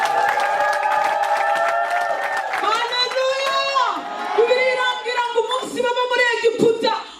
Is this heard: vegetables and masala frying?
no